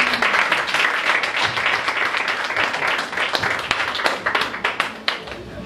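A church congregation claps and cheers in acclaim of God, a dense, loud burst of applause with scattered voices mixed in for several seconds.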